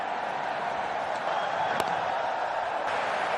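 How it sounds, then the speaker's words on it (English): A test match cricket crowd during Australia versus India, heard as a steady, broad murmur of many distant voices with faint scattered applause. A commentator's voice sits under the crowd noise. "A test match crowd."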